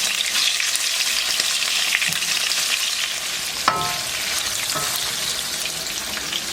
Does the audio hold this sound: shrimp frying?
yes